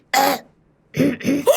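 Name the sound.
cough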